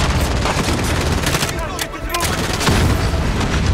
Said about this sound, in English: It is just grenade throwing.